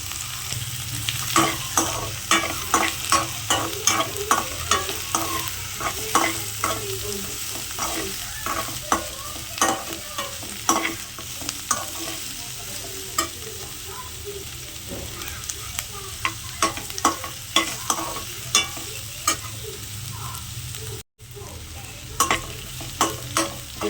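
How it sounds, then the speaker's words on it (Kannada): Ginger and spices sizzle in a hot pan for green masala chicken gravy, a steady fry under frequent sharp scraping stirs from a spatula, close and continuous with no voices. "ಇದನ್ನೆಲ್ಲ ಚೆನ್ನಾಗಿ ಫ್ರೈ ಮಾಡಬೇಕು ಎಷ್ಟು ಚೆನ್ನಾಗಿ ಫ್ರೈ ಮಾಡ್ತೀರೋ ಅಷ್ಟು ಚೆನ್ನಾಗಿ ನಮ್ಮದು ಮಸಾಲ ಬರುತ್ತೆ"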